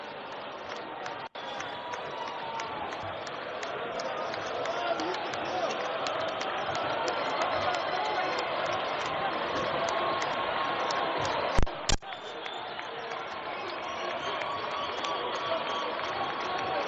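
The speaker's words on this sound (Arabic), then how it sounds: "كما نشاهد هتافات وأهازيج في القاعة البيضاوية ترحيبا" Crowd in the oval hall at an Algerian FLN party rally cheers and chants in a sustained, dense roar, with a couple of sharp bangs near the end.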